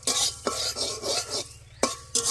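A spice mix for vegetarian jackfruit curry fries together in a pan, with close, rhythmic scraping stirs over a soft sizzle and a few sharp utensil knocks against the pan, without any voices.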